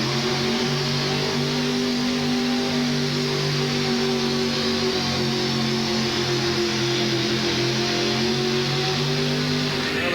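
Big-block pulling truck engine from a 1988 USHRA truck and tractor pull in Denver, roaring steadily at high revs through a full pass, loud and close with strong harmonic drone and no talk.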